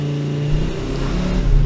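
Skoda Kodiaq vRS launching hard from a launch control start with stability control in sport mode, its engine a loud, steady close-up roar that builds and rises in pitch across the short burst.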